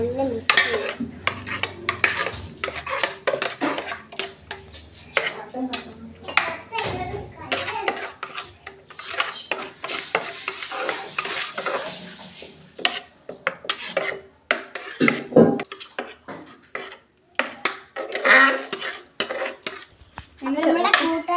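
Crushed coconut mixed in a pot alongside taro, busy close scraping, rubbing and clinking of a utensil against metal in uneven bursts with short pauses.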